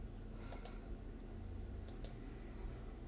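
A few sparse keystrokes on a computer keyboard while entering a Windows Command Prompt command, two brief pairs of clicks over a steady low hum, with no talking.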